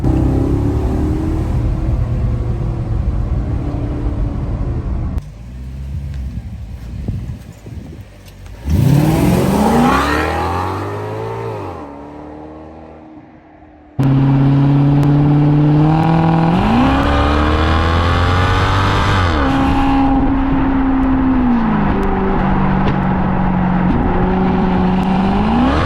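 A Maserati GranTurismo, rear-wheel drive and about ten years old, drifts and accelerates on a damp road, its engine loud and close, rising and falling through revs with a brief quieter lull before a sustained hard pull.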